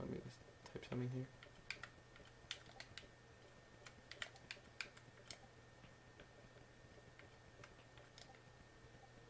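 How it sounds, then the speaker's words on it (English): Quick, irregular keystrokes on a computer keyboard, faint and close, tapping out a short search entry with brief pauses between bursts of clicks, and a low steady hum underneath. "let me just type something here"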